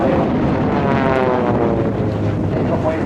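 A Pilatus PC-7 turboprop trainer flying a display at an airshow, a loud, steady droning engine roar with a rough, wind-buffeted texture that continues throughout.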